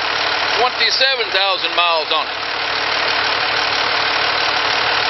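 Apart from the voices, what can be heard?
Cummins 5.9 diesel engine idling in 1993 Ford F350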